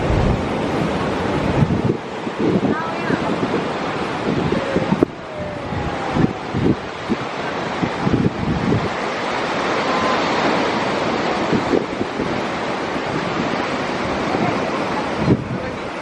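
Ocean surf and strong wind at Tanah Lot beach in Bali, a loud, steady wash of waves with gusts buffeting the microphone and a few brief thumps, no voices standing out.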